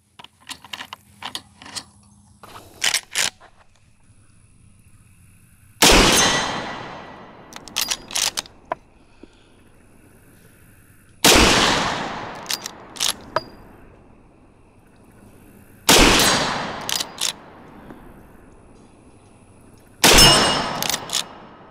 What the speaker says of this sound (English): let's just shoot some reactive targets with the same rounds that we've been seeing. I might also ring some steel along the way.